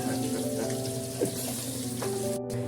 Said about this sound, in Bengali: আমি এখন লাল লাল করে ভেজে নিয়েছি